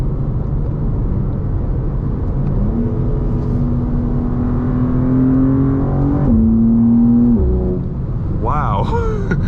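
A tuned BMW G87 M2 running an M2CS tune: a loud, steady engine drone whose pitch climbs and then drops abruptly at several quick gear shifts, with a brief burst of higher engine whine near the end.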